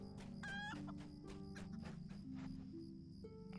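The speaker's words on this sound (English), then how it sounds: "let's see what's going on in the world of chickens" Chickens cluck in the Lord of the Rings Online video game in the Shire, with a series of short, fairly quiet clucks and squawks over a soft ambient background, no talking.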